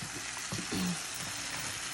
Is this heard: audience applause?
no